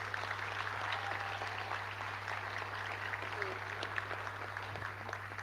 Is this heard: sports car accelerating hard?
no